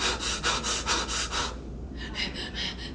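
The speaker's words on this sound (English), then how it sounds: "Just deep, fast breaths, deep, short breaths, okay? In through the nose, out through the mouth?" A person takes deep, fast breaths in through the nose and out through the mouth as a breathing exercise. About seven quick, even, close breaths come in a steady rhythm, then a brief pause, then more breaths, a little softer.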